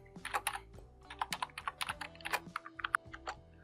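HTML code is typed on a computer keyboard as a quick, close run of crisp key clicks in uneven bursts. No one speaks.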